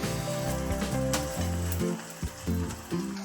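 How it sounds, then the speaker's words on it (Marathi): Onion and tomato frying in a pan, a steady close sizzle with repeated bursts of stirring and scraping, loud and continuous with no talking. "आपला टमाटर मऊ होपर्यंत आपण त्याला असंच ठेवू दोन मिनटं"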